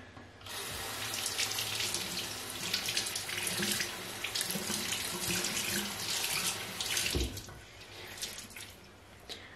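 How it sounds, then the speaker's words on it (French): A makeup remover sponge rinsed under running tap water, a steady hissing gush from a faucet into a sink that lasts throughout, with a brief splashy bump near the end. "je vais le passer sous l'eau"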